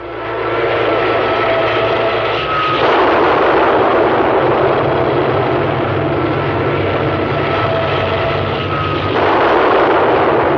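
Artillery fire in a Korean War era film, heard as a continuous loud rumble of bombardment with broad noisy bursts rising and falling across the whole passage, with no voices.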